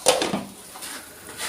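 A lid is lifted off a cooking pot of egg and bombil bhaji. A short metallic clink comes up close at the start, followed by quiet kitchen background.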